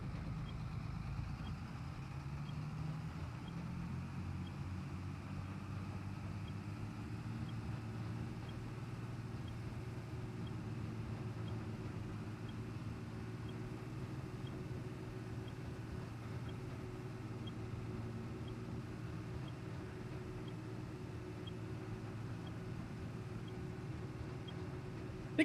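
A tractor engine in Farming Simulator 25 drones steadily at moderate volume as it drives, its low hum shifting slightly in pitch over the whole stretch with no talk.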